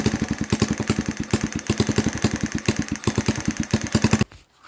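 A small motorcycle engine that has just had a new spark plug fitted runs with a fast, even putter of firing pulses and a light mechanical clatter, then cuts off abruptly near the end.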